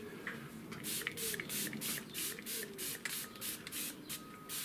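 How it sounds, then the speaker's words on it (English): Repeated short hisses of an aerosol or pump spray mist over an acrylic pond painting, about ten evenly spaced bursts fairly close, with a steady faint background hum underneath. "Let's give it a spray."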